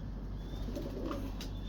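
Plain Jonsri pigeons coo softly over a constant low rumbling background, with one or two brief, faint calls and no voices.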